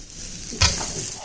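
Squeezed soya chunks dropped into a hot kadai, with a sudden loud sizzle burst and a scrape of stirring, close up and brief.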